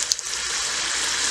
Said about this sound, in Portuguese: Se dá essa chiadinha aí, é sinal que vai ficar gostoso.